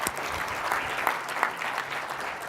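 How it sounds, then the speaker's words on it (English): Applause from an audience at an executive summit talk, a steady wash of many hands clapping close and fairly loud with no talk over it. "give them a round of applause"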